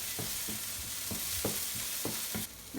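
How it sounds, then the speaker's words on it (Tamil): Grated carrot sautéing in a pan for carrot poriyal, a soft steady sizzle broken by a regular series of low spatula knocks and scrapes against the pan, with no voices. "நெக்ஸ்ட் நம்ம கேரட்டையும் போட்டு வதக்கிடலாம்."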